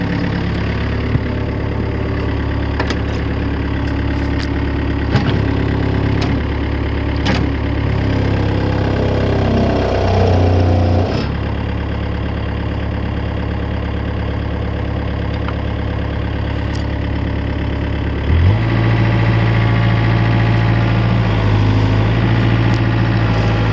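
A construction machine's diesel engine idles steadily nearby on a roadside job site, its low drone shifting pitch a couple of times, with scattered clanks over it and no speech.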